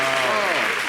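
Audience at a televised holiday show claps steadily to acclaim God, a dense, continuous wash of applause with a sung or spoken tone running faintly beneath it.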